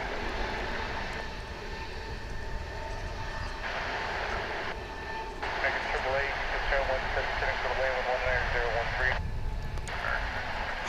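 An Airbus A220 airliner at DFW International Airport makes a continuous engine rumble and roar while a person talks over it at length.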